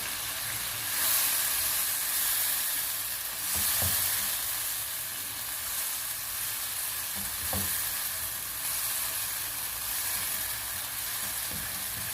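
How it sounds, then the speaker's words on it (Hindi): Ginger garlic paste sizzles steadily in a hot pan with spices, a constant frying hiss broken by a few soft stirring knocks of the spoon, close and fairly quiet with no talking. "अब इसमें अदरक लहसुन का पेस्ट डाल दें।"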